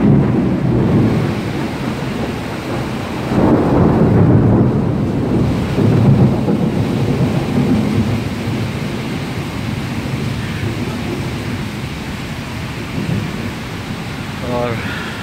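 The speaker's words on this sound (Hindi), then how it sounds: "बादलों की गरज चमक जारी है।" Low thunder rumbles roll through a storm in Karachi alongside rain and wind buffeting, loud and sustained, swelling in a few waves.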